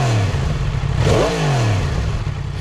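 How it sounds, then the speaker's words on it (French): A 2022 Yamaha MT-10 motorcycle on its stock exhaust revs up, the engine note climbing sharply and then falling back to a steady idle, loud and close with no one talking. "je vais te faire écouter le petit échappement d'origine"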